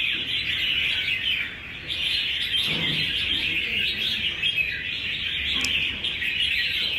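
A chòe songbird sings in a bird song contest, matched against a neighbouring bird. Its song is a steady, busy stream of bright chirps and whistles, close and continuous, with no talking.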